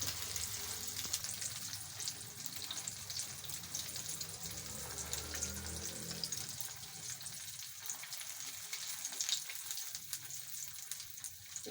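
Potato balls fry in a pan with a steady, close sizzle and crackle that runs throughout without a break.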